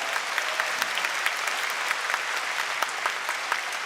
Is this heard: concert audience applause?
yes